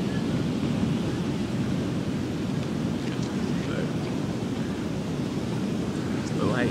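Steady ocean surf washing onto a beach in the Sunshine State, a continuous broad roar of waves and wind noise filling the scene without clear breaks.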